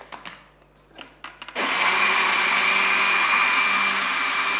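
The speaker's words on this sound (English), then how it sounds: "And just mix together, blend." A kitchen blender whirs loudly, mixing mango juice with orange juice, starting abruptly after some quiet clinks and handling noises and then running steadily and close.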